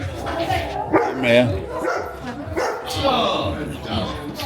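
A dog in a pub gives short yips and barks amid the bar's chatter, with people talking over and between the barks.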